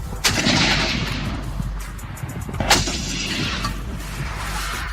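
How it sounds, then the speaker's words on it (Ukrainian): Two heavy shots from a Vasilek mortar boom a couple of seconds apart, each a sharp blast followed by a rumbling tail. "Постріл!"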